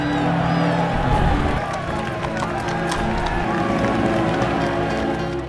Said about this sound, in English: The people of London line the streets cheering Fairfax's name